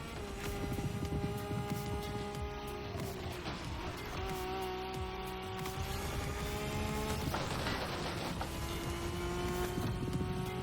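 Lamborghini cars race in the video game The Crew Motorfest, their engines holding a steady high-pitched whine that dips and climbs again as gears shift, with scattered mechanical clatter underneath and no voices.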